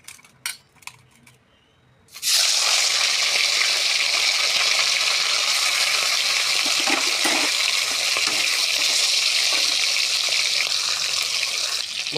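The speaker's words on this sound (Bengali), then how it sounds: "এখন মাথাগুলো ভেজে নেব লাল লাল করে" Rohu fish heads go into hot oil in a wok: a few clinks and knocks, then a loud, steady, hissing sizzle that continues close and unbroken.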